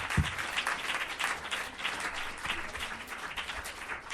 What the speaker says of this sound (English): let's give a big round of applause for all of the performers